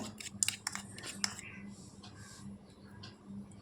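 Spices are stirred into raw banana chivda in a bowl with a metal spoon. Several sharp clinks and scrapes come early, then fade into a soft background hum with no talking.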